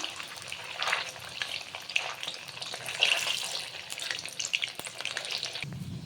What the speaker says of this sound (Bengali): এগুলো আমি কর্নফ্লাওয়ার দিয়ে একটু হালকা করে ভেজে নিয়েছি